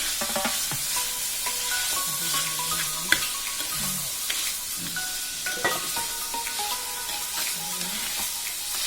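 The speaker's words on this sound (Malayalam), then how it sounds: "ബ്രൗൺ കളർ ആവുന്ന വരെ വഴറ്റും. ഈ സവാള ഒന്ന് പെട്ടെന്ന് വഴറ്റിക്കിടാൻ നമുക്ക് അതിൽ ഉപ്പ് ആഡ് ചെയ്ത് കൊടുക്കാം" Sliced onions with salt sauté in a hot pan, sizzling steadily while a spatula stirs and scrapes, adding repeated clinks and short squeaks against the metal.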